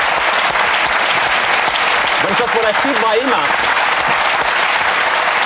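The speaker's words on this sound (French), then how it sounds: "Ça mérite quelques applaudissements" A French television studio audience applauds loudly and steadily, while a voice speaks briefly over the clapping.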